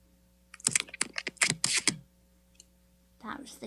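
A close, crackly rip of painter's tape being pulled in a few quick jerks, followed by a pause and another brief burst of noise.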